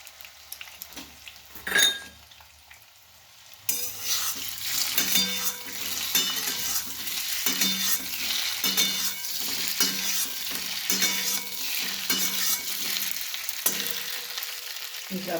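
Stirring sooji and poha idli pieces in a frying pan with vegetables, a steady scraping and sizzling that runs for most of the stretch after a brief quieter start, with no talking.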